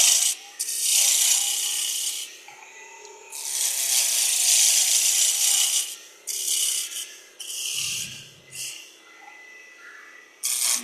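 Wood turning on a lathe at a woodturners' meeting, a cone being cut toward a point: bursts of bright scraping and rasping cut in and out between short pauses, steady and close, with no talking.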